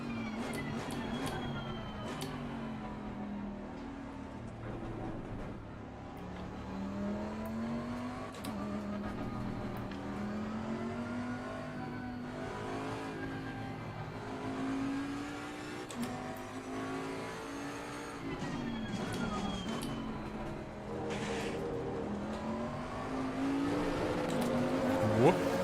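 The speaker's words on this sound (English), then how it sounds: "I'll always do that in the formation lap, accelerating and braking at the same time like this" In Assetto Corsa Competizione at Kyalami, a race car's engine drones and rises and falls in pitch as it accelerates and brakes on a formation lap, with a voice talking over it throughout.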